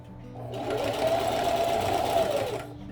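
A sewing machine runs steadily for a couple of seconds, stitching along the edge of a vinyl piece with a continuous, close whirring hum that rises and fades at the ends.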